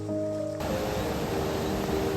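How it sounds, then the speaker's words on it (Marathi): Flooded river in Konkan rushing under heavy rain, a dense broadband roar of flowing water and rainfall that rises and stays loud and constant after a low tonal hum fades, with no talk. "पाणी बघा पूर्ण भरून वाहतंय. हे बघा तुफानी पाऊस."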